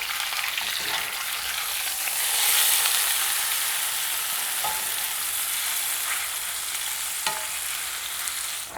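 Pork sizzles and fries steadily in a cast iron pan, with a few short clacks and scrapes as tongs turn the meat, a close, continuous sear with no talking.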